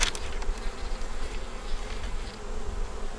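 Dense steady buzzing of many honey bees crowding around pollen, a continuous close hum with no voices over it.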